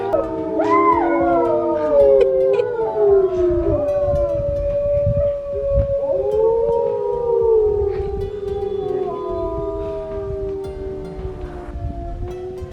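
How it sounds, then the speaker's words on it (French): A pack of wolves at Pairi Daiza zoo howls in a long chorus of overlapping rising and falling wails, fairly loud and sustained, over outdoor ambience. "On a assisté au chant des loups."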